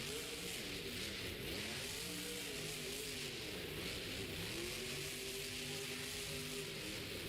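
A race car runs around a racing track, its mid-pitched engine droning steadily and rising and falling in pitch as it takes the first turn, continuous and fairly distant throughout.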